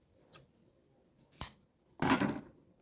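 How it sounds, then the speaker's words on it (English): Scissors trim excess material while a structured tote bag is being made: three crisp, close snips, two short and the last longer, with quiet gaps between. "cut out the excess"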